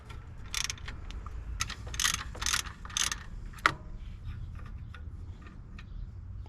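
A ratchet loosening a 13 mm alternator bolt on a First Gen Cummins engine, heard as several close, rapid clicking bursts in short rhythmic runs with a sharp clack partway through, over low background hum, no talking.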